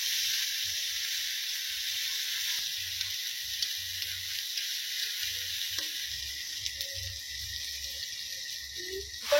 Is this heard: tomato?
yes